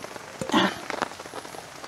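Heavy rain drums on a tent at a solo overnight campsite, a brief close patter with one louder splash of drops early on.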